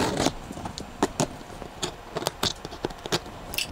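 Scissors cutting open a cardboard box holding a Dyson Supersonic hair dryer, a series of short, quiet snips and scrapes in an irregular rhythm, close by and alone.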